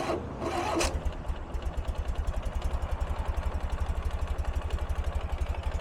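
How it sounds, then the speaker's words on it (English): A 2013 Ural Gear Up two-wheel-drive sidecar motorcycle engine cranks briefly without choke, then catches and settles into a steady, rapid idling thump, close and fairly loud. "all we have to do is bump our starter."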